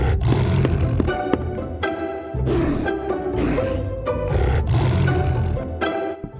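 A tiger roars loudly several times in a row in a children's cartoon, deep rumbling bursts separated by short pauses, with no talking over them.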